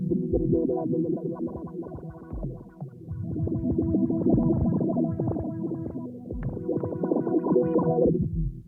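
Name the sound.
stereo filter effect sweeping back and forth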